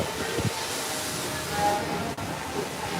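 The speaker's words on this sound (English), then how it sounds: "that right ahead, that is Seven Dwarfs Mine Train." The Seven Dwarfs Mine Train ride at Magic Kingdom rumbles with a steady mid-distance rail roar and hiss, blended with theme park ambience and no clear talk.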